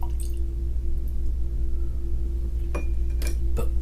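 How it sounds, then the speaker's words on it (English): A few small drips of water fall into a glass of whiskey, with soft clinks near the end over a low steady hum. Each sound is brief and close, and nobody speaks. "I'm gonna add some water to it."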